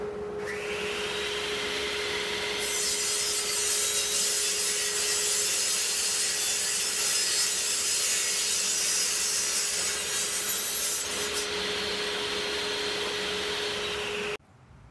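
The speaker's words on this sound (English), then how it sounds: "I'm gonna go down on the table saw and cut that piece off there" A table saw cuts through a cargo trailer frame piece, a loud, continuous high-pitched grinding whine that runs steadily for about ten seconds and stops abruptly.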